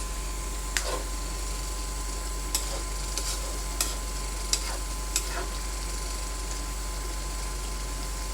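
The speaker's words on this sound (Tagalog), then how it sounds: "Haluin lang po natin para po magpantay ang kanyang pagkakaluto." A spoon stirs cooked squash and string beans in a pot for ginataang kalabasa at sitaw, giving a few sparse scrapes and clinks spaced irregularly over a steady low hum, with no talk.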